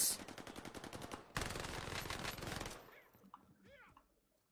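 Rapid automatic gunfire in a multiplayer shooter video game, loud and sustained bursts for nearly three seconds, including one sharp heavier volley midway, then dropping away to quieter game sounds and faint effects.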